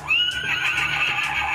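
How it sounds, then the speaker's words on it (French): A large toy Spirit stallion horse plays a loud, sustained electronic neigh, a single whinny heard alone and close. "On a plusieurs sons comme ceci. C'est cool, on a plusieurs hennissements différents."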